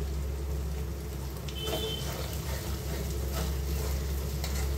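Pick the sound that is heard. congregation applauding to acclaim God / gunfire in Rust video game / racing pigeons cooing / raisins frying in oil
raisins frying in oil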